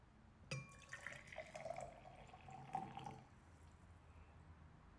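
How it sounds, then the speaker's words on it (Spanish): Cold water being stirred together with hot water in a glass, a soft liquid swirling and dripping with light clinks, fairly quiet and alone, fading after about three seconds. "Voy a revolver entonces el agua fría con el agua caliente"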